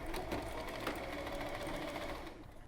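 A sewing machine stitches along the edge of a single-fold fabric hem, a fast, steady mechanical whir with a rapid needle rhythm, close and continuous for nearly three seconds before easing off.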